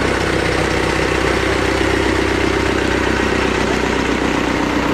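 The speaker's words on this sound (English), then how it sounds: "They got a big old Caterpillar backhoe back there. Just went by." Big Caterpillar backhoe engine runs loud and close at an outdoor barbecue grill event, a steady low diesel rumble with a constant drone and no voices over it.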